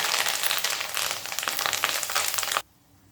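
Curry leaves, asafoetida and turmeric sizzling in hot oil for thin poha chivda: a loud, dense crackling sizzle that runs steadily, then cuts off abruptly near the end, leaving near quiet.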